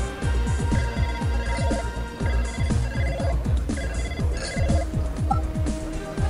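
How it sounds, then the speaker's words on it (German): A phone ringtone repeats a rhythmic electronic melody continuously, fairly loud and steady, with a faint voice now and then. "Das war mein Telefon, glaube ich."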